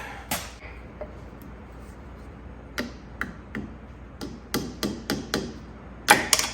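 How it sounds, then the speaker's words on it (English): A big socket is hammered onto a winch part of a John Deere 450 dozer, giving a series of sharp metallic blows, first spaced then quickening, close and loud over a quiet background. "I'm gonna try to drive this in here without screwing it up using a big ass socket"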